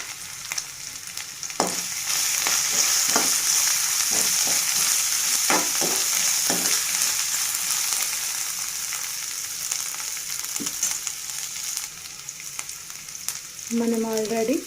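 Onions with a pinch of turmeric fry in a pan, a steady broad sizzle running throughout with scattered stirring clicks and scrapes, fairly close and loud, no talking.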